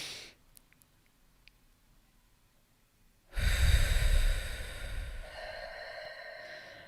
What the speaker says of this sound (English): taking a deep inhale, holding for 4 seconds before you exhale